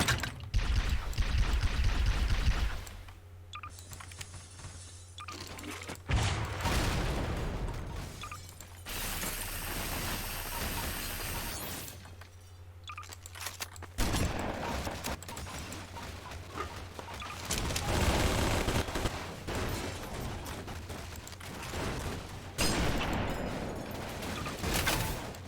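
Halo-style sci-fi weapons fire in bursts in a sandbox shooter, with rapid crackling volleys and blasts that stop and start across the stretch over a steady low hum.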